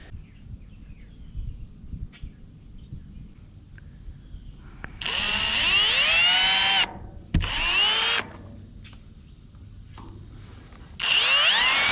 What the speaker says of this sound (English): I have a 5/8 drill bit. This thing is massive.